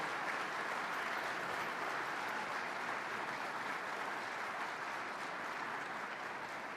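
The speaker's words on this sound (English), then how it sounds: "Everyone, a round of applause for the people who helped make Imaging USA so wonderful." An audience at a photography award and degree ceremony claps in a dense, even burst of applause that holds steady throughout, with no cheering or speech over it.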